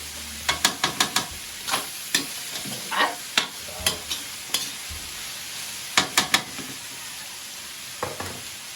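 Eggplant omelette (tortang talong) frying in a small eatery kitchen, a steady low sizzle broken by a string of sharp scraping and tapping clicks from a spatula, with short bursts of several quick hits and quieter pauses between.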